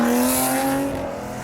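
An Aston Martin GT12 engine revs hard up close, a loud, steady, harmonic-rich roar with a strong tonal grunt that holds briefly and then eases slightly.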